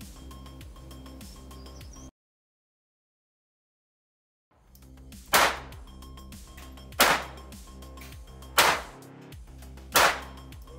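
A .22 Long Rifle fires four separate shots at a sport shooting range, each a sharp, close crack spaced about one and a half seconds apart, after a brief stretch of silence and a low steady background hum.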